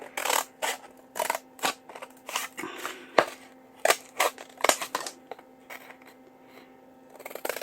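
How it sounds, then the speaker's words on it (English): Close, crisp snips of scissors cutting through paper, a series of sharp irregular cuts with brief pauses between them. "I'm just going to take a pair of scissors here"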